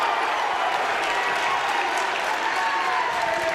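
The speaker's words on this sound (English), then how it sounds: "And that brings the Xavier crowd alive." A basketball crowd at a high school Division II quarterfinal roars and applauds after a score, a dense, steady wall of cheering and clapping that fills the gym without letup.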